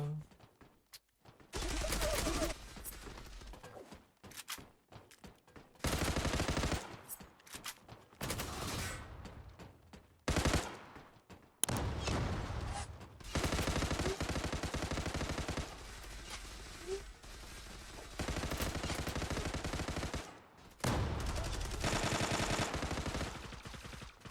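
Video game gunfire crackles in repeated bursts of rapid automatic shots, loud and close, broken by short gaps, with players talking between the volleys.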